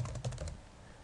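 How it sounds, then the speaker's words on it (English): A quick burst of keystrokes on a computer keyboard types a single word, several close, light clicks in about half a second before falling quiet. "So I type in the word education here in this box."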